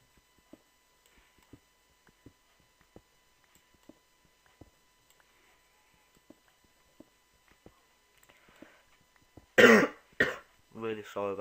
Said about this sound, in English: Really sorry about my coughing